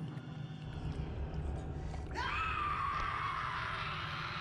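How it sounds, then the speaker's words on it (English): A character in the video game Bioshock lets out a sustained high scream that starts abruptly partway through, rising over steady low background noise and continuing loud to the end. "Don't scream at me."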